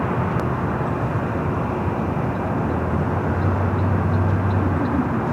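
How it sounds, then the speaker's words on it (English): An Airbus A350-900 airliner arriving at LAX from Seoul produces a steady, broad jet engine roar, distant but loud, with a low rumble swelling slightly toward the end and no voices. "A350-900 coming in from Seoul"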